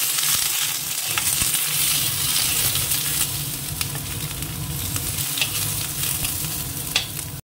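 Ginger, garlic, tomato and onion frying in oil in a pan, a steady loud sizzle with scraping stir strokes throughout, no voices.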